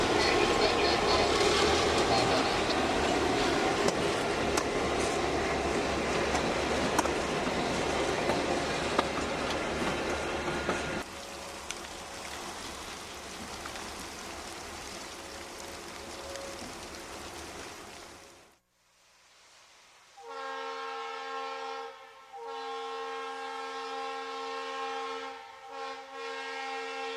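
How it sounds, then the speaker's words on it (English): Empty ore train led by a Conrail locomotive rumbles loudly past the historic Madisonville depot, then after a brief lull its horn sounds in long, steady blasts with short breaks. "Empty ore train K320, led by a Conrail unit, threads its way past the historic Madisonville depot."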